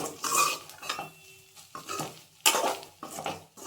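A spatula scrapes and clinks in a pan while eggs fry with chilli powder and coriander powder, Rayalaseema-style egg fry, in short stirring bursts with faint sizzling between strokes.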